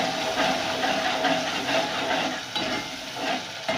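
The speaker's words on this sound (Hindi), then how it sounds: "इतना अच्छी तरह भून दूँगी।" Ginger-garlic masala fries and is stirred in a pan, giving a steady, close, loud sizzle with scraping stir strokes throughout and no talking.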